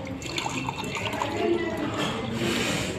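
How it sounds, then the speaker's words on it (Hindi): Water poured into two drinking glasses, a steady close trickle and splash with light dripping, filling continuously for a few seconds. "मैं फिर से ये दोनों ही ग्लास में पानी भर रहा हूं।"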